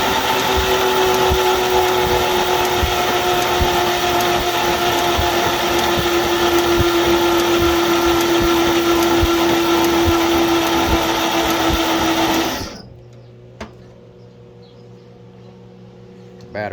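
Starter cranking a 1941 GMC truck engine revived after 20 years, a loud steady whirring drone with a sustained whine that runs for about twelve seconds, then cuts off abruptly into near silence.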